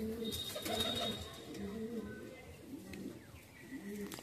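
Golden pigeons cooing in a loft, low soft repeated coos in a steady rhythm, fairly close but quiet, with faint background noise and some nearby human voice.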